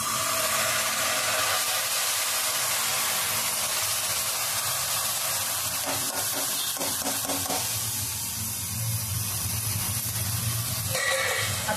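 Washed chivai greens are tipped into hot masala in a pan, giving a steady broad sizzling hiss that holds loud and even throughout, with no voices.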